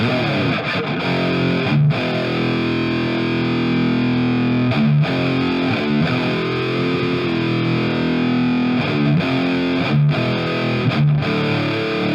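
Heavily distorted electric guitar through the Audio Assault Shibalba amp sim plays chugging, saturated 80s metal and thrash-style riffs with brief gaps between phrases, loud and thick throughout.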